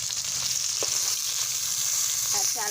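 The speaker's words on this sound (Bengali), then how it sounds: "বাটা মাছ ভাজা হয়ে গেছে" Small young bata fish frying in hot oil, a steady close sizzle throughout with a few faint clinks near the end.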